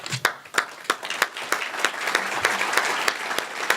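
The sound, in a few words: audience applause at annual meeting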